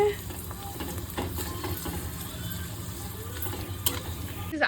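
Homemade chips fry in hot oil in a home kitchen, a continuous close sizzle with occasional stirring scrapes and small pops.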